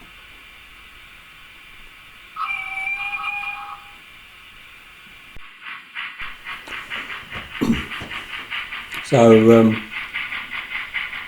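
A train near a coal unloading siding hisses steadily, with bursts of air release, clanking and short squeals; a voice speaks briefly at the start.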